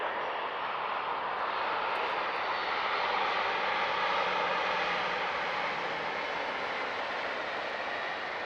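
Airliners taxiing past at Manchester Airport give a steady, broad engine roar that holds at an even level throughout, with no talk over it.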